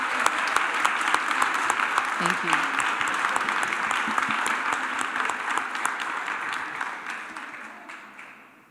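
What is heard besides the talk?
audience applause at lecture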